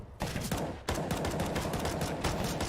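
Rapid CZ75 pistol fire in a CS:GO match on Mirage, a dense burst of sharp shots that runs almost without a break, loud and close, with no voices.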